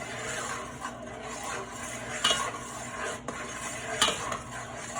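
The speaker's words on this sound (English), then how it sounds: "I'll know that it's boiling once I start to see the mixture bubbling" Soft bubbling and stirring sounds of no-bake cookie mixture boiling in a pot, with faint scrapes and a few light clinks over a low continuous simmer.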